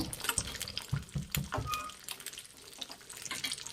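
Cashews and almonds fry in hot ghee for carrot coconut laddu, giving a close, continuous sizzling hiss with a few spoon clinks near the start.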